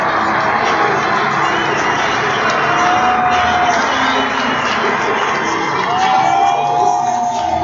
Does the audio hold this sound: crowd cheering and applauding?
yes